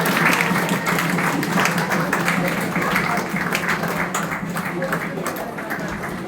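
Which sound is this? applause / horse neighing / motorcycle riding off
applause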